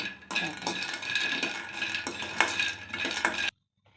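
Peanuts roast in a kadai, with a utensil scraping and stirring in repeated rhythmic strokes over a low sizzle, close and moderately loud, stopping abruptly near the end.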